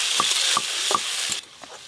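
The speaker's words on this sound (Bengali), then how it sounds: "আলুগুলো ভালো করে ভেজে নেব।" Small cubes of new potato, skins still on, fry in a pan for singara filling, a bright continuous sizzle broken by several light spatula taps and scrapes that then fades.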